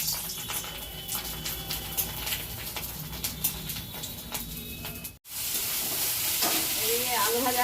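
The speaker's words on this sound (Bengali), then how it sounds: "এদিকে আলু ভাজা হচ্ছে" Potatoes fry in a pan at home, a steady broadband sizzle with occasional stirring scrapes; the hiss cuts out abruptly for a moment, then returns with dripping water-like sounds near the end.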